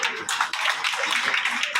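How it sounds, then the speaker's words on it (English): Guests at a formal dinner clap together in a steady, dense patter of applause lasting a couple of seconds, with no voices standing out. "Please applaud him."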